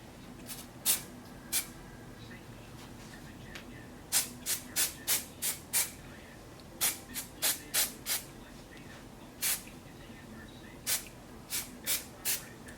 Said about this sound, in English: So I'm going to go ahead and spray my hair.